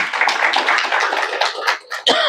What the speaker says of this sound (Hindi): बीच बीच में ताली भी बजाते रहेंगे।